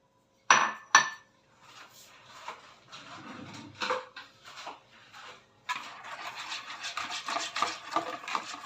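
Quiche dough ingredients, starch and flour, being mixed in a bowl, with two sharp clinks of a utensil against the bowl, then soft scraping and stirring that turns into a busier, steady rasp toward the end.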